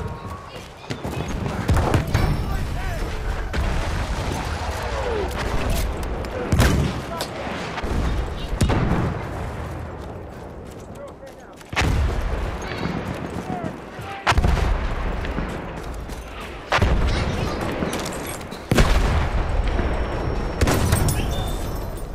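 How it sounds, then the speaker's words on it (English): Enemy machine gun fire in Battlefield 1 rattles in dense bursts mixed with heavy booms and thuds of battlefield explosions, loud and close, with shouted voices occasionally over the din. "That's an enemy machine gun!"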